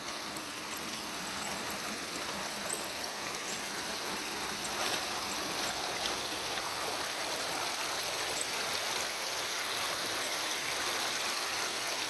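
Floodwater rushes down a wadi after heavy rain in the valleys of Dibba, Fujairah. A steady, loud, close rushing roar fills the whole stretch without pause.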